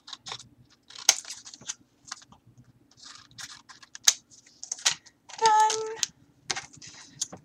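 A handheld tape gun dispensing a strip of packing tape and then cutting it off, with a short rasping pull and sharp snaps amid nearby crinkling and handling noise, heard close up.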